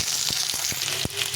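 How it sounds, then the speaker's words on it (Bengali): Potato pieces fry in hot oil after a tempering of dried chilli, bay leaf and cumin, a continuous close sizzle broken by a few sharp clicks and pops. "এখন আলুটাকে আমি ভেজে নেবো।"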